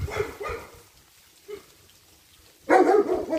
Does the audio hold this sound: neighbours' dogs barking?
yes